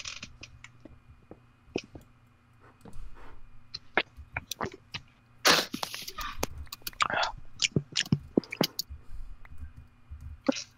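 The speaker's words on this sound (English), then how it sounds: "Are you chewing gum or something? Nope, I'm eating food." Someone eats food loudly, with wet chewing clicks and smacks scattered irregularly through low background noise and occasional soft voices.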